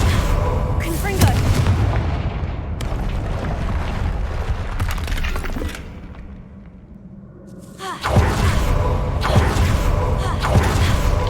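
Fiery Confringo spell blasts in Hogwarts Legacy, played as a Ravenclaw on hard difficulty: a run of loud booming explosions with a brief quieter lull midway, then another heavy volley, over game sound and some talking.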